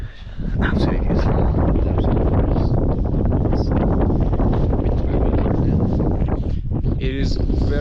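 Strong, very cold wind buffets the microphone on a Lake District mountainside near Lingmell and Great Gable, a loud continuous roar that swells and gusts throughout, with a person briefly speaking beneath it.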